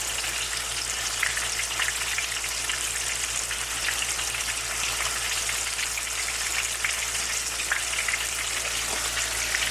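Gafftop catfish, a saltwater catfish, frying in a pan: a steady, dense sizzle of hot oil crackles continuously and evenly throughout, close up and fairly loud, with no voices.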